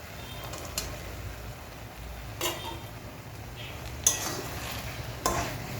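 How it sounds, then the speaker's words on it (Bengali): Eggs dropped into a hot pan for egg chilli, with a soft sizzle under several clanking stirs of a utensil against the pan, spaced irregularly. "এবারে আমি ডিমগুলো দিয়ে দেবো"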